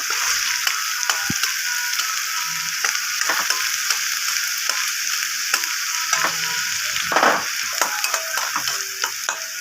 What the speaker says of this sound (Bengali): এবার আমার এই তেলটা গরম হয়ে গেছে এবার আমি প্রথমে পেঁয়াজ কুচিগুলো দিয়ে দেবো